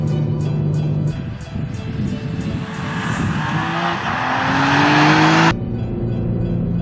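A 2021 BMW M3 Competition's engine climbs in pitch under acceleration through its muted exhaust, with tire squeal on hard driving. The sound is loud and close, then cuts off abruptly near the end, leaving a lower engine drone.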